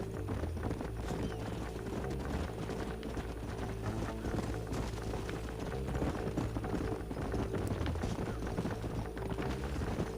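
Horse hooves gallop in Red Dead Redemption 2, a dense continuous clatter of several riders moving together under game ambience, with faint whinnies and no talk.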